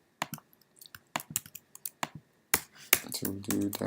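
Someone types Python code on a computer keyboard, with quick irregular bursts of close clicking keystrokes and a short pause between runs.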